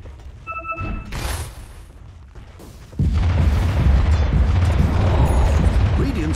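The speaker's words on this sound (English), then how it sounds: "Radiant's bottom tower is demolished." A tower collapsing in Dota 2, starting with small game chimes and a sharp crack, then a heavy rumbling boom that rolls on loudly for several seconds.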